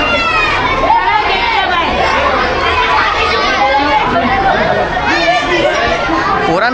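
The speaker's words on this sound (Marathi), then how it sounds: "खूपच जास्त जल्लोष आहे पोरांचा" A large group of boys at a Republic Day celebration, loud, dense overlapping shouting and excited chatter close by, continuous throughout with no single voice standing out.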